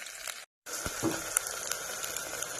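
Onion, green chilli, garlic and ginger sizzling in hot oil in a kadhai, a dense steady crackle with a brief cutout near the start, then continuing close and even.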